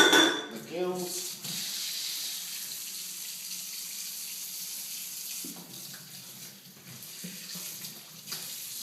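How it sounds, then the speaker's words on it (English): Running tap water splashes steadily into a sink while a whole salmon is rinsed under it, the flow close and continuous with occasional shifts as the fish is turned; no one talks. "we just give it a little wash, just to rinse out the"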